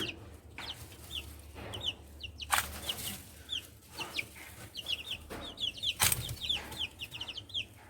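Several chickens cluck and chirp close by in a steady, busy chatter over a low background hum, with a couple of louder bursts and some wing flapping.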